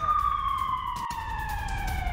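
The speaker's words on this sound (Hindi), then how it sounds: "किबुत्स में लगातार बज रहे हैं सायरन" Warning sirens wailing across an Israeli kibbutz, a steady loud tone sliding slowly downward with its harmonics above, broken by a brief dropout midway, over low background rumble.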